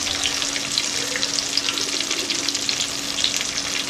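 Potatoes and pointed gourd sizzle steadily in a hot pan with salt, turmeric and spices, a constant close crackling fry with light stirring scrapes throughout.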